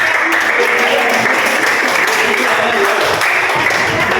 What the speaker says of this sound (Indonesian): kita berikan aplaus untuk kelompok